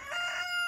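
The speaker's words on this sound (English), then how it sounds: "That's the teenage rooster just learning how to crow and do his thing." A young rooster crows once, a short, strained cock-a-doodle-doo heard close and alone, with a backyard compost garden setting.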